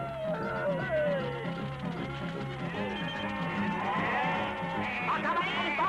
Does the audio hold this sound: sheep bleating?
yes